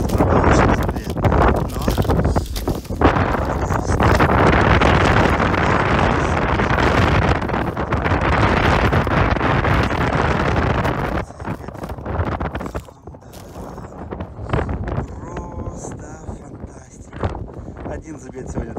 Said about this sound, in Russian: Конечно, ветер тут сильнейший.